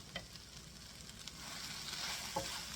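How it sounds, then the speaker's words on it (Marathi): Okra coated in dry masala frying in a pan, a soft steady sizzle with a few light stirring clicks, fairly quiet and without voices. "मसाला छान फ्राय व्हायला हवा आहे"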